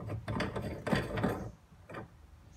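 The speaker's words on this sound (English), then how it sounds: "we're going to go ahead and screw the valve on" A plastic valve is screwed onto PVC pipe for a salt water station, giving a few close, quiet ratcheting and grinding bursts of threads turning, then a brief pause and one last twist.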